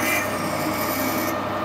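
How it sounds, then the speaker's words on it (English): A drill held in a lathe tailstock chuck is wound slowly into the workpiece, giving a steady rasping, rubbing cut that holds at an even level throughout with no talk. "I'll wind the drill in nice and slowly and see if it deflects."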